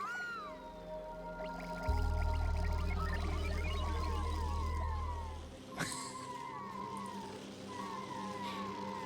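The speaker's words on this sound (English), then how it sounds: "this is the sound of shine bugs" Shine bug critters in the game Oxygen Not Included chirp in repeated short, gliding tones over a low steady hum, with a sharp crack-like burst partway through.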